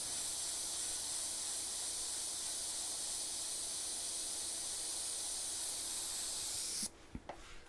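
An airbrush blows a steady stream of air to dry fresh paint on a Halloween custom piece, a close, even hiss that runs for about seven seconds, then cuts off, leaving faint handling noises.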